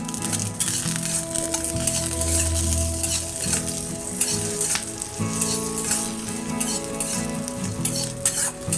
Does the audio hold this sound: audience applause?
no